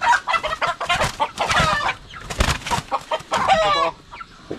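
A caught farmyard hen clucks loudly and close in repeated bursts of agitated calls, with short pauses between them and no talk over it.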